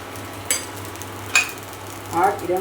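Food sizzles softly in oil in a pan, with a few sharp utensil clinks and scrapes breaking the low steady hiss, close up.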